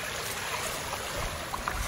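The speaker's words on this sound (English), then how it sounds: "from here, we will show you the flow of water" Flood water after heavy rain in Africa rushes past in a steady, loud, broadband wash, with light trickling and splashing detail on top and no pauses.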